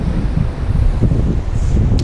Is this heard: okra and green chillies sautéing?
no